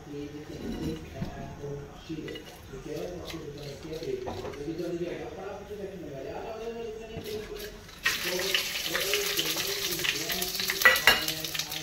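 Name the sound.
whole spices sizzling in hot oil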